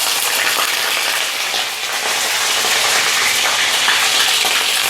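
Pasta in red tomato sauce boils in a pot with a loud, continuous bubbling hiss that holds steady throughout.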